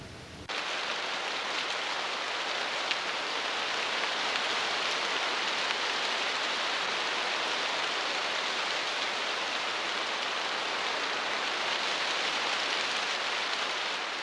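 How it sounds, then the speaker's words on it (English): Heavy rain pours through the leaky roof of a cave in Ankarana, a dense, unbroken roar of falling water that stays loud and even throughout. "When the rains finally come, they pour through its leaky roof."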